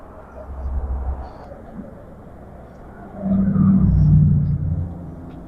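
A John Deere 401C tractor engine runs at a low idle, its deep rumble swelling in two surges, with a voice talking briefly nearby.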